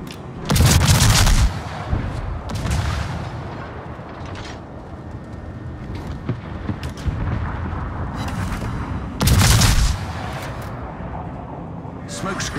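Naval cruiser guns fire in a warship combat game, two loud booming salvos several seconds apart over a constant rumbling battle din, with speech heard in the mix.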